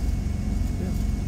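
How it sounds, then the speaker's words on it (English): A truck engine idling while it warms up, a steady low rumble filling the background as a person talks over it. "we're waiting for our truck to warm up so that we can get on the road again"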